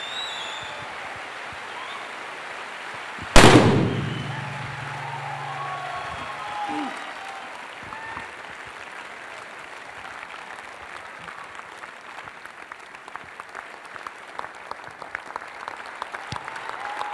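An audience applauds at a 12th anniversary celebration for a trading company in India, beginning with a sharp loud burst and settling into steady, dense clapping from a large crowd.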